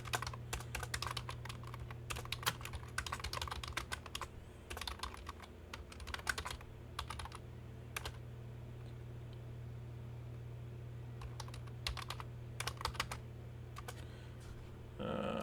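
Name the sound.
typing a book title on a computer keyboard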